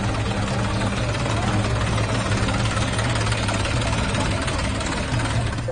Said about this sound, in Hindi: खुद मेयर ट्रैक्टर से सड़कों पर निकल पड़ी